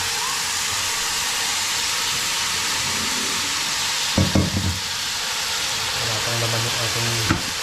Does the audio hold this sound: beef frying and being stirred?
yes